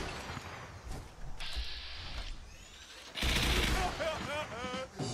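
Gunfire from gunners in Fallout 4, heard as sustained rattling bursts of automatic fire with a louder stretch toward the end, set against game sound effects.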